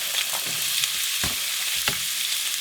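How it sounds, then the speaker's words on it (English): Onions, red pepper and jalapenos sizzle steadily in heated olive oil, a continuous bright frying hiss with a couple of soft scrapes of stirring, close and alone with no voices. "I'm going to add my onions and the red pepper and the jalapenos to saute"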